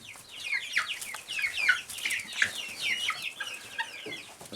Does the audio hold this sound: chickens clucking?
yes